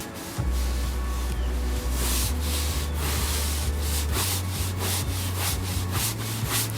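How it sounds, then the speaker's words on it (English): A stiff brush scrubs a wooden fence being prepped for staining, giving a steady, close, continuous rasping rub with rhythmic strokes and a low hum underneath. "basically, you're scrubbing your fence"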